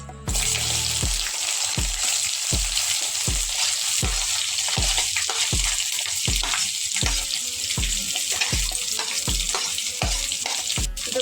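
Onions with curry leaves frying in a pan for chicken curry: a steady, loud sizzling hiss throughout, broken by regular scraping stirs about once a second.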